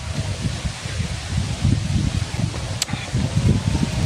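Strong wind blowing outdoors, buffeting the microphone with steady low rumbling gusts and rustling for the whole stretch, with no voices.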